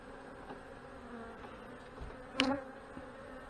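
Honey bees drone steadily during an inspection of an opened hive, a faint continuous buzz close by, with a brief louder whine as one passes near and a few soft knocks.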